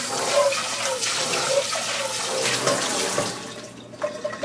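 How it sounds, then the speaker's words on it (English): Tap water pours steadily into and over a pot, rinsing excess oil off it, a loud close rushing splash that shifts as the pot moves under the stream. "Want to rinse off any excess oil that's left on our pot,"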